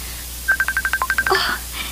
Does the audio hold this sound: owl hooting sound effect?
no